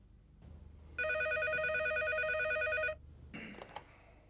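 A telephone rings once in a steady electronic trill lasting about two seconds, fairly loud over a low room hum, followed by brief handling clatter as the receiver is picked up.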